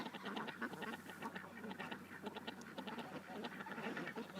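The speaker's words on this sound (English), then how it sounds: "Come on home, ducks." Ducks heading home in the evening, pushed along by a drone, keep up a steady chorus of overlapping quacks, near and fairly loud, with no pauses over several seconds.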